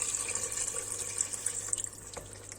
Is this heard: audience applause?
no